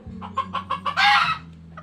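A labuyo rooster, a Philippine jungle fowl, clucks close by in a quick run of five or six even, pulsing notes, then gives a louder, longer drawn-out call and a faint last cluck.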